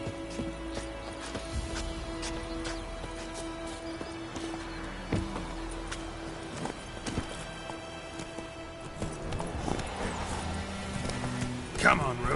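Hooves of Roach, the horse in The Witcher 3, clip-clop at a steady gallop throughout, with game music and someone talking over the top.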